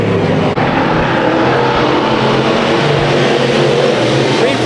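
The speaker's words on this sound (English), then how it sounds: "Green flag in the air for the IMCA stock cars." IMCA stock cars race around a dirt track at Chowchilla Raceway, a loud, continuous roar of several engines revving and droning past together, close and sustained throughout without a break.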